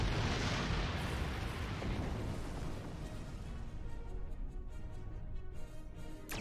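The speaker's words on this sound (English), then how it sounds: "Press the spacebar to fire energy weapons. Warning, ship is under attack." A spaceship comes under attack in a Star Trek game, opening with a big explosive boom that decays into a long rumbling roar, followed by quieter crackling and bursts of weapons fire.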